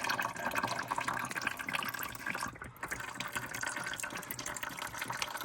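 Engine oil draining from a 2014 Ford F-350 during an oil change, a steady close liquid trickle and splash into a pan that runs continuously without pause.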